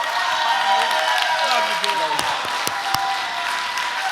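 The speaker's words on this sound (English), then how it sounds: "it's nice that you're clapping for me" A church congregation claps and cheers for a guest speaker, steady crowd applause under a speaking voice, with a few sharp knocks and some tonal sounds mixed in.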